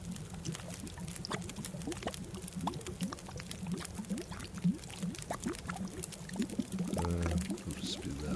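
Water being made in the survival video game The Long Dark, a repeated pouring and bubbling effect with many small trickling pulses over a low steady hum, closing with a brief louder chime-like sweep.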